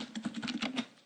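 Rapid keystrokes on a computer keyboard as a command is typed: about a dozen close, crisp clicks in an uneven rhythm, with no voices, tapering off at the end.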